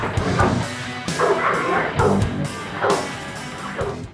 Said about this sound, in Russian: Американский бандог.